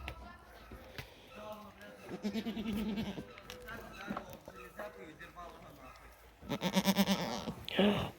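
Several white goats bleat loudly at close range, with a strong burst of bleating near the end and rustling movement throughout.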